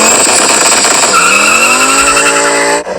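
A 1990s Audi Quattro launches hard with a loud, close engine roar that rises steadily in pitch as it accelerates, overlaid by a sustained, high tire squeal, then cuts off abruptly at the end.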